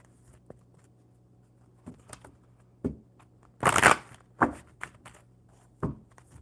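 Earth Wisdom oracle cards being shuffled in a quiet room, soft scattered riffles and taps with one louder burst of flicking cards midway, close and faint.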